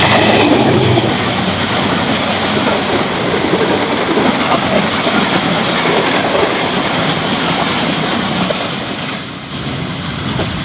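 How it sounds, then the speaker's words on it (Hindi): A Subuk Kharam railcar rushes through Gujranwala Cantt station without stopping, its loud continuous rumble and rail clatter filling the air up close before easing slightly at the end. "GU20 4566 थ्रू पास कर रही है 103 अब।"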